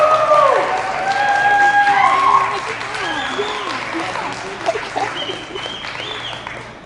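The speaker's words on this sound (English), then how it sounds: "Now, applause." Audience applause at a graduation pinning ceremony, a loud sustained burst of clapping that gradually thins, with whistles, cheers and voices mixed in across the crowd.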